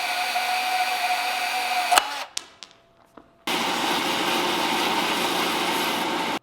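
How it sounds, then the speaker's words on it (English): A power grinder whines steadily against a steel bar, grinding a taper, stops with a few clanks and a brief quiet, then starts grinding again loudly and continuously. "you just grind a taper on here and cut a chunk off"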